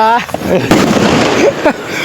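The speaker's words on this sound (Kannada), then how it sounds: "ಬಾಂಬ್ ಹಚ್ಚೋರು ಅಲ್ಲಿ ನೋಡ್ರಿ" A loud nearby Diwali firecracker bang bursts out amid excited voices talking, followed by crackling debris and more chatter.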